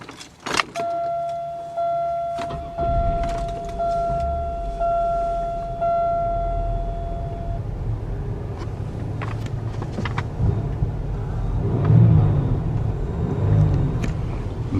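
A 2003 Buick Park Avenue with the 3800 engine starts up after a jingle of keys and a brief chime, then settles into a steady, low idle rumble that continues close by.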